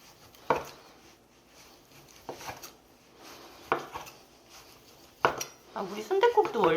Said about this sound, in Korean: 얄팍얄팍하게 한번 썰어 볼게요